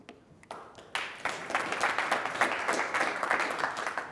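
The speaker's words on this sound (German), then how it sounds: "Der zweite Applaus innerhalb von 2 Minuten, cool." Applause from a conference audience after a talk at an agile software developers' event, starting with a few scattered claps and swelling into steady, dense clapping that fills the room and continues to the end.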